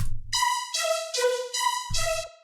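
Bass synth fed through a vocoder for a dubstep color bass sounds as a few sustained, tonal chord stabs shifting in pitch, set between low thumping hits at the start and end, close and alone.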